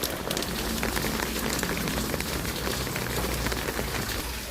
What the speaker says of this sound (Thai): ซึ่งวันนี้ฝนตกนะครับ ก็ไม่ค่อยสะดวกนะครับ